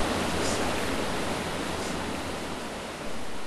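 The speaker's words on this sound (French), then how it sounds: "Le bruit de l'eau me donne soif." Steady, broadband rush of water flowing in a stream, continuous and fairly even throughout with no voices.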